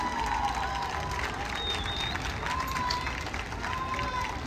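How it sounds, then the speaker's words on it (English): A stadium crowd claps and cheers steadily for high school football players at Lane Stadium, broad and sustained, with an announcer talking over the applause. "Let's give all of them a big round of applause and their family members."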